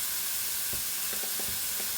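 Ridge gourd sautéing in a pan for a Kerala stir-fry with turmeric, a steady soft sizzle with a few faint stirring knocks, no voices.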